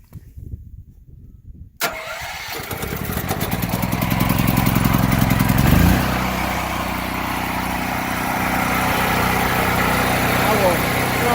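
A Firman T07571 portable generator cranks after a brief quiet moment, catches and climbs into a loud, steady engine drone that settles into a constant running roar, heard up close.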